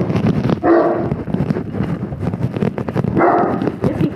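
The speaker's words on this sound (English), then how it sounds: "That is a big dog." A big dog barks in a house near a basement, with a couple of loud, rough bursts standing out over steady background noise.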